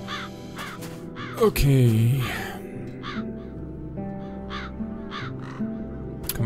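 Crows caw repeatedly in the video game Satinavs Ketten, a series of harsh calls spread across the scene over steady game music, with someone speaking briefly and a loud caw standing out near the start.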